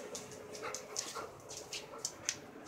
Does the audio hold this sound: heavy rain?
no